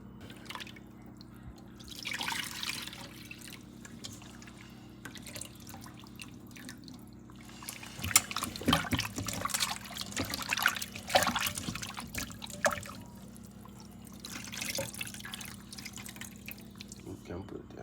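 Water runs and drips while soaked raw chicken pieces are rinsed for a coconut curry chicken, a steady trickle with splashy bursts midway, under intermittent talk.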